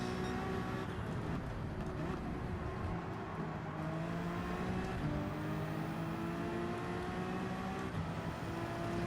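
A Honda NSX race car on soft tyres in Gran Turismo 7 holds full throttle, a sustained engine drone with rising pitch sweeps through gear changes and other cars faintly around it, steady and moderately quiet, no voices.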